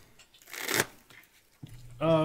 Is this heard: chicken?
no